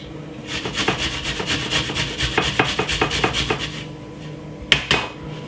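Garlic being grated by hand in a home kitchen, a steady run of rough rasping strokes close by, each scrape rising and falling in rhythm, with a brief pause and one sharp final scrape near the end; no voices.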